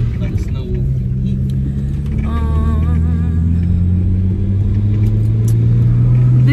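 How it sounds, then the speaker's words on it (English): Loud car engine rumbling and droning from inside the cabin while driving, a deep steady hum that rises in pitch as it accelerates, with people talking over it. "Your car is too loud."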